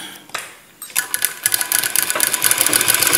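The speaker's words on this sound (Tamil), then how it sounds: "ரெண்டு தையல் போட்டு முடிச்சிட்டோம்" A sewing machine stitches cross-piece cloth while a dhoti-style pyjama is being sewn, the rapid mechanical whir starting after a short pause and running steadily, close and fairly loud, with no talk over it.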